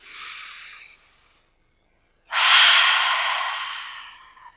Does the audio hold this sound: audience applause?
no